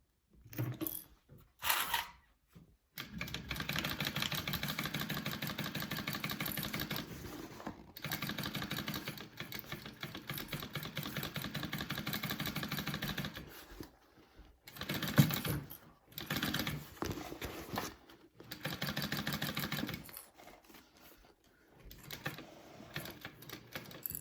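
A sewing machine stitches a 5/8 inch seam on a fabric shoulder bag, running in rapid mechanical rattling bursts separated by short pauses, close and moderately quiet with no talk.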